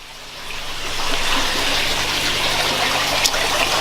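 Water drains from an aquaponics grow bed through a 25mm PVC pipe, gravity-fed into a backyard fish tank, giving a steady close splashing gush that swells slightly and then holds even, with no talking.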